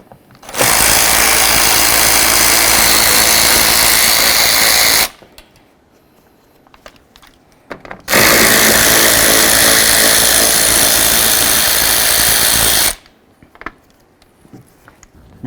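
A power tool backs out 7mm mounting bolts on the door of a 2005-14 Ford Mustang: two loud, sustained whirring bursts of about four to five seconds each, separated by a quiet pause with faint clicks.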